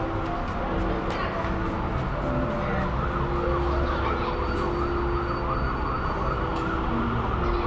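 An ambulance siren wails through steady traffic noise near a mall, with people talking nearby and the siren sitting partly under the crowd and road hum.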